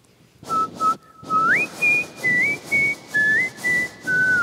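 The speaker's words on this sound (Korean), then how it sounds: "휘파람이 저의 개인기입니다." A person whistles a short melody alone, clear sustained tones gliding between pitches in several phrases, with breathy pauses between notes.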